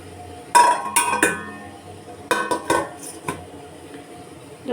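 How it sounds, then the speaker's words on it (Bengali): A metal lid is set onto a pot of steaming palm-fruit pitha batter, with two separate bursts of clanking and clinking, about a second and a half apart, close and fairly loud, and no talking. "ঢাকনাটাকে ভালো মতন ঢাকিয়ে দেবো"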